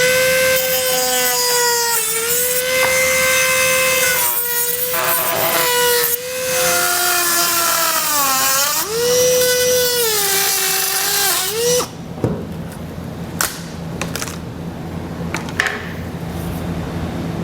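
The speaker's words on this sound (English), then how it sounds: "So I'm using a Dremel tool to do this." A Dremel rotary tool cuts a trailer hitch opening into the plastic bumper fascia of a 2019 BMW X5, a loud high whine that sags and rises in pitch as it bites, then stops, leaving quieter clicks and handling noises.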